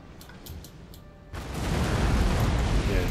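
Distant artillery thuds a few times in Napoleon: Total War, then a heavy, sustained rumble of cannon fire from 6-pounder and 12-pounder batteries swells and fills the battlefield.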